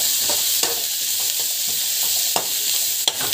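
Fennel seeds fry in hot oil with a steady bright sizzle, close and constant, broken by a few soft scrapes as a spoon stirs them around the pan.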